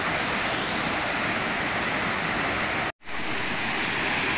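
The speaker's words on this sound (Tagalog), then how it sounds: "Kaya pala tinawag na Infinity Falls." Infinity Falls, a waterfall hidden in a forest beside red rocks and very clear water, pours in a steady, loud broadband rush that stays up close and unbroken apart from one very short gap near the end.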